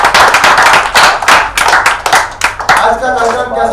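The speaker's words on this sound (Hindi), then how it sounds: "एक बार तालियां हो अन्य लोगों के लिए।" Close, loud hand clapping from an audience at a Hindi poetry gathering, a ragged burst of sharp claps that runs for a few seconds and then gives way to murmuring voices near the end.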